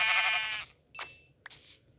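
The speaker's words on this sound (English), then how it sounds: "And yeah, we have a sheep down here." A sheep in Minecraft gives a loud, clear bleat, followed by two shorter, fainter bleats, with nothing else heard.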